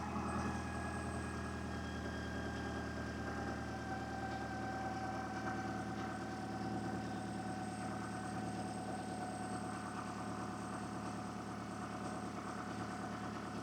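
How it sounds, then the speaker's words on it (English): A car engine runs steadily and close for the whole stretch during a cranking test with a Lokithor JT400 jump starter and battery tester, a constant low rumble with no pauses and no voices. "A cranking test."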